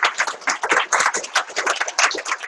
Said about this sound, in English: Let's give Curt a huge round of applause.